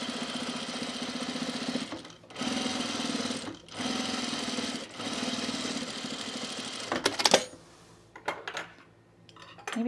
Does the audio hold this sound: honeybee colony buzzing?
no